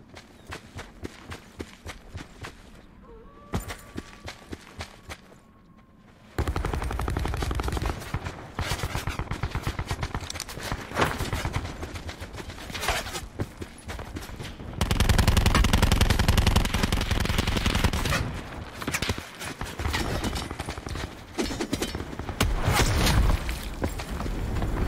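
Gunfire in the Call of Duty Blackout video game, bursts of rapid automatic shots and single cracks scattered through a busy battle mix, with running footsteps and a louder stretch of firing near the end.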